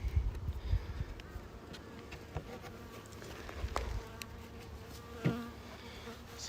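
Honey bees buzz in a steady, close drone from an opened hive during a brood inspection, with a few brief louder passes and light knocks over the continuous hum.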